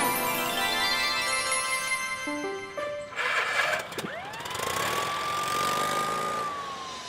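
A cartoon police car transformed from Morphle drives off with a loud revving engine and a rising, sustained siren-like whine over background music, no talking.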